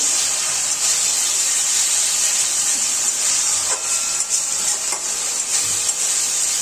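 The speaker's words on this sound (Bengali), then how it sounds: "আমি আরও দু এক সেকেন্ডের মতন একটু মশলাটাকে কষিয়ে নেব" Spice paste fries in oil in a pan over a medium-low gas flame, giving a steady, close hiss and sizzle with a few faint stirring scrapes and no talk.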